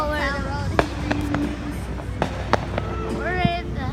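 Fireworks go off outdoors as several sharp, separate bangs and crackles, with whistling rising tones between them. Excited voices talk over the bursts throughout.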